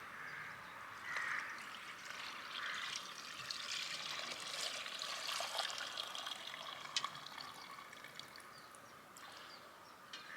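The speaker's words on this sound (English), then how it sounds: "So the next part is for me to strain this off." Elderflower cordial liquid strained through muslin cloth and a sieve into a bowl, giving a soft, steady trickle and patter of liquid that runs continuously at moderate, close level with no voices.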